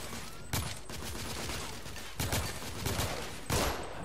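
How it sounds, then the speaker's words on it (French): Repeated gunshots in The Order 1886 video game crack over a dense, constant background of battle noise, with four prominent loud shots spread irregularly across the span and no talk. "Mais je le tire dessus!"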